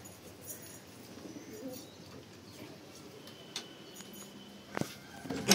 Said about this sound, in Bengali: আর বাকি সব পায়রা খাওয়ার জন্য ভেতরে আসছে।